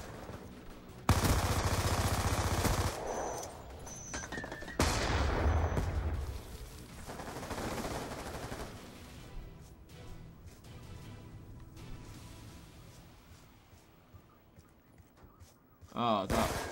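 Call of Duty Black Ops II gunfire comes in loud bursts with booming impacts and sustained automatic fire, separated by quieter stretches with game effects, and a final burst closes it out.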